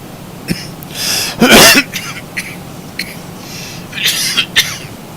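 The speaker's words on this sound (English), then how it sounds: "too much talking triggers my cough" Several rough coughs and throat-clearing bursts, close and fairly loud, with a heavy cluster in the middle and a few sharper ones near the end.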